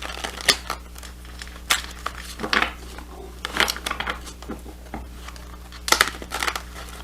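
A tarot deck is shuffled unevenly, giving scattered close papery slaps, flicks and rustles in irregular bursts over a low steady background hum.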